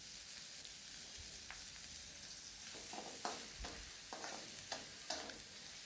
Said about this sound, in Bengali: তেল গরম হওয়ার পর তাতে পেঁয়াজ কুচি দিয়ে দিলাম